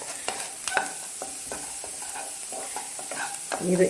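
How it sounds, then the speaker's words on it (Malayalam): Vegetable rava upma with peanuts is stirred in a frying pan, giving quick, repeated scraping strokes of a spoon over a soft, steady sizzle. The sounds are close, with no talking. "ഇനി ഇത് കളർ മാറുന്ന വരെ നന്നായിട്ട് ഇളക്കി കൊടുത്തുകൊണ്ടിരിക്കുക"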